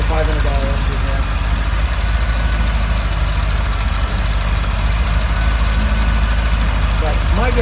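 A car engine idling rough and loud right after its first cold start, suspected of misfiring, with a constant low rumble and vibration filling the whole stretch.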